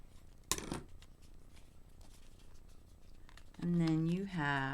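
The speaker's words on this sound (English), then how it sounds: "I'm just going to trim that edge off" Scissors trimming the edge of a paper craft folio, one quick sharp snip near the start, close and faint, followed by a voice speaking.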